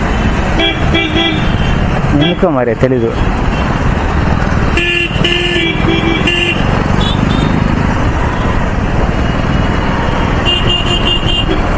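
Busy city traffic on Hyderabad roads during a jam, with repeated car and motorcycle horns honking near and far over engine noise while people talk.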